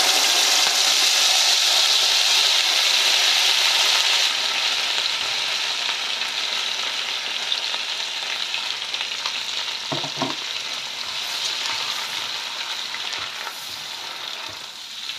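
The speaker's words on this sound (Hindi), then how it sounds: "इसमें मैंने ऑयल और बटर डाला है, अब वो गर्म हो गया तो इसमें मैं प्याज डाल दूंगी।" Onions dropped into hot oil and butter fry with a loud, steady sizzle that eases slightly after the first few seconds, with a few faint clinks of a utensil partway through.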